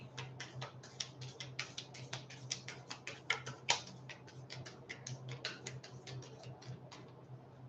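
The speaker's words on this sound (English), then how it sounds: "Two more shuffles," Oracle cards shuffled by hand in a steady run of soft, rapid riffling flicks and taps, close and fairly quiet over a low steady hum, with no talking.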